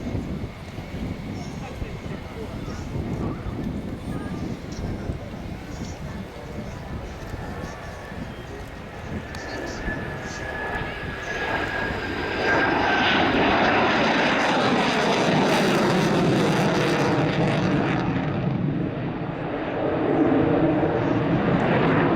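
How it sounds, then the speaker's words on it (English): A Polish Air Force MiG-29 jet fighter makes its final fly-past at the RIAT 2016 airshow, its roar swelling from a distant rumble into a loud, sustained jet blast over the later seconds as an announcer talks throughout. "the final fly past of this display coming up in from our left"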